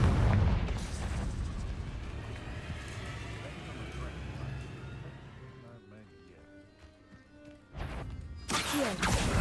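A Confringo fire spell blasting in the Hogwarts Legacy game, with heavy booming explosions and rumbling debris, a quieter stretch with tonal game effects, then fresh loud bursts near the end.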